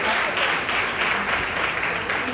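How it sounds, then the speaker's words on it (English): A crowd at a national event gives loud, continuous clapping, a dense wash of applause with no pauses. "Oh, please let's clap for them."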